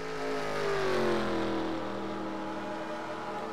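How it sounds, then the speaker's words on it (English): Race cars, including a Dodge, accelerate on Fort Wayne Super Speedway, a loud, continuous engine roar whose pitch glides downward as the cars pass and keep pulling. "Sounds like we got some cars catching up to him."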